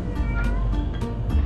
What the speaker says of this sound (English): I was trying to scare the cat.